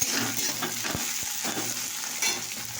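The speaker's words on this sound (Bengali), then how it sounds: "তো দেখে একটু ভাজা ভাজা হয়ে গেছে। এবার আটা রসুনের পেস্ট আমি দিয়ে দিলাম।" Garlic paste and spices fry in a pan with a constant bright sizzle, broken by a few scraping stirs of a spoon, close up and with no talking.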